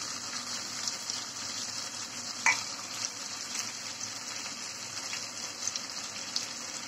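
Ginger, garlic and onion paste sautéing with spices for achari chicken, a steady soft sizzle with occasional stirring scrapes and one sharper clink, close by and with no talking.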